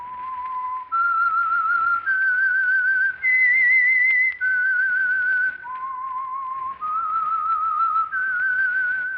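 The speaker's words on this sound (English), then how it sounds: "That whistle is your signal for the Signal Oil Program, The Whistler." A lone person whistles a slow, eerie tune of held, wavering notes that rise and fall, clear and close, serving as the radio signal for The Whistler with nothing else audible.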